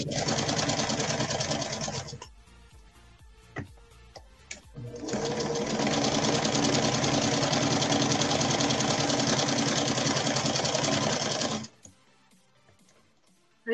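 A sewing machine stitches angel skin fabric to make fabric tulips, running in a short burst and then a long steady whirring stretch, with quiet pauses between runs.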